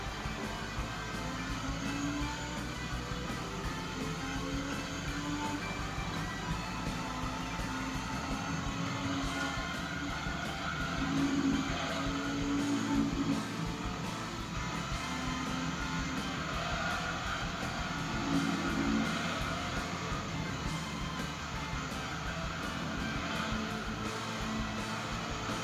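A race car's engine in Gran Turismo 3 drones steadily at high revs, a continuous buzzing whine that swells and dips with shifts over about twenty-five seconds, without voices.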